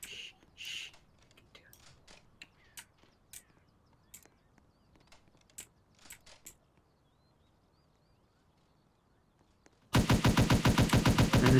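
Rapid automatic gunfire in the online shooter Salvage, a sustained loud burst near the end after a quieter stretch of scattered distant shots and sparse clicks.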